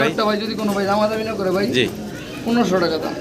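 Pigeons cooing at a pigeon seller's loft, with throaty rolling calls close by that are partly mixed with a person talking.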